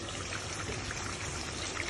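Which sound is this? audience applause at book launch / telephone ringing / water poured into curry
water poured into curry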